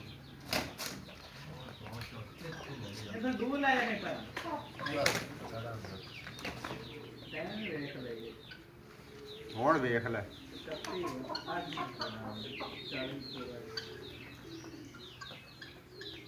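Roosters scuffle with sudden bursts of wing flapping and scattered clucks and squawks, while people talk nearby.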